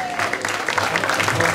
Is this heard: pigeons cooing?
no